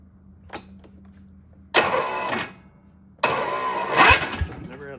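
Husqvarna zero turn lawnmower engine cranking over twice in short bursts, the second attempt catching and running louder before easing off, with a faint click beforehand.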